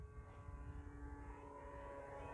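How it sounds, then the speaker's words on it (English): An FMS Pitts 1400mm RC model airplane is heard in flight, its noisy propeller giving a faint, steady, even drone with a tonal whine for the whole short stretch, and no talking. "It'd be nice if the prop wasn't quite so noisy."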